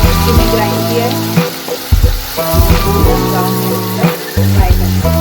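Ground onion paste sizzles in hot oil in a pan, a continuous frying crackle mixed with brief stirring sounds under background music, while Dhaba-style paneer gravy is being cooked.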